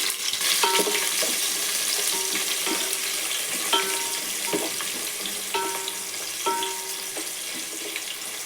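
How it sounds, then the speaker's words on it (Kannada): Spices and onions frying in hot oil in a pot for biryani, a constant crackling sizzle with repeated metallic scrapes and clinks of a spoon stirring at a steady pace. "ಪಾತ್ರೆ ಬಿಸಿ ಆಗಿದೆ ಎಣ್ಣೆ ಹಾಕ್ತಾಯಿದ್ದೀನಿ ಈಗ ಸ್ಪೈಸಸ್ ಹಾಕ್ಕೊತ ಇದ್ದೀನಿ ಈರುಳ್ಳಿ ಸೇರಿಸ್ಕೊತಿದ್ದೀನಿ"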